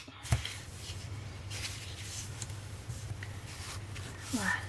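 Paper folds creased by hand for a Stamperia Rose Parfum scrapbook album page: faint, close papery rubs and rustles, with a soft crackle near the start and another near the end, over a low steady hum.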